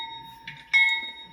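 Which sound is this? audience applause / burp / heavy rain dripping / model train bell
model train bell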